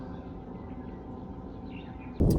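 Spring birdsong drifts over still water as faint scattered chirps and tweets under a low steady background hum, ending in a brief louder rustle.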